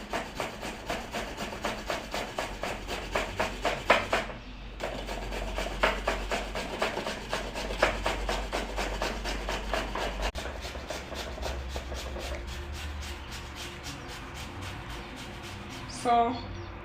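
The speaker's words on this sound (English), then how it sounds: "I'm gonna just grate this carrot, the carrot that I just peeled" A peeled carrot is grated into a bowl with quick, rhythmic rasping strokes, close and fairly loud. A short pause interrupts the strokes, which then resume and continue steadily to the end.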